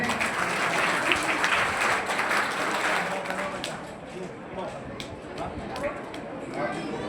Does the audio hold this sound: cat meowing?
no